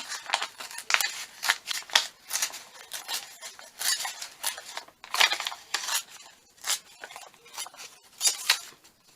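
Scissors snip through stitched paper for a junk journal, giving a close, irregular series of crisp cutting crunches and blade scrapes with brief pauses between strokes.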